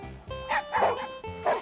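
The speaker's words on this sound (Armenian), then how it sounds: "շուն։ Շուն։" A dog barks three or four times in quick succession, close and moderately loud, with short yipping barks and faint background tones.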